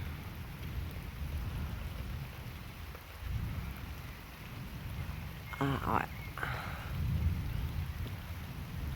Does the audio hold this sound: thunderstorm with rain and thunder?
yes